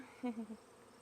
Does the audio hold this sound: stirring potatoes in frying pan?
no